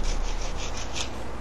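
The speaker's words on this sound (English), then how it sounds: "Here I'm sharpening the antler wedges on a stone." An antler wedge is rubbed against a sharpening stone in quick, regular back-and-forth scraping strokes, a close, gritty rasp with no talking.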